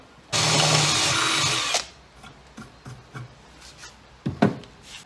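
A power drill bores a 5.5 mm hole through an aluminium plate for a homemade fishing seat box frame, a loud steady whine lasting about a second and a half, followed by faint clicks and handling knocks.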